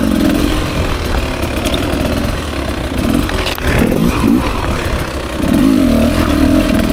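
A 2024 Beta 300 RR Race Edition two-stroke dirt bike ridden on tight wooded single track, its engine buzzing and revving up and down with engine braking, close and loud throughout.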